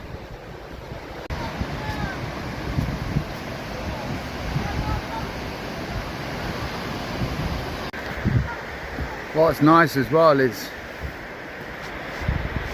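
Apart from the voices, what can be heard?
waterfall at Ingleton, Yorkshire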